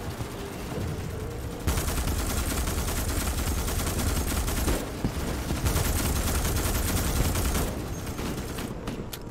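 Sustained loud bursts of automatic gunfire in the Starship Troopers Extermination shooter, dense rattling volleys that stop and restart several times, near and harsh, with no talk.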